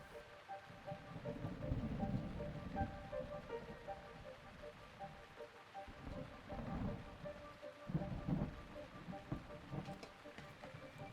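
Rain and thunder in the video game Zelda Breath of the Wild: a steady wash of rainfall with low, rolling rumbles that swell and fade several times across the stretch, with no voices over it.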